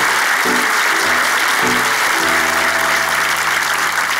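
A studio audience applauds loudly and continuously in a Turkish comedy show as a performer named Tan walks off, while brief music notes play underneath.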